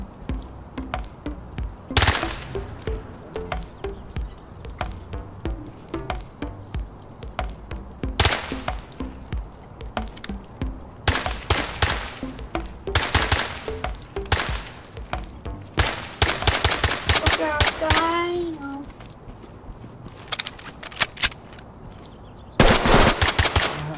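Gunfire in the tactical shooter video game Ready Or Not, loud sharp shots and rapid automatic bursts hammering in irregular volleys over a steady background hum, with high whining tones drifting through.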